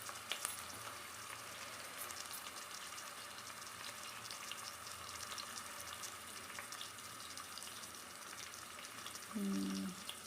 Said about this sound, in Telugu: సో మనం ఉల్లిగడ్డ మిర్చి వేసాం కదా, అది కొంచెం గోల్డిష్ కలర్లో వచ్చేదాకా